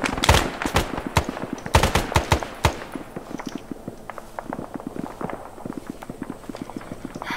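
Ammunition cooking off after grenades in the video game Arma 3, a rapid irregular crackle of sharp pops, loud clustered bursts at first that thin into quieter scattered popping, with no talk over it.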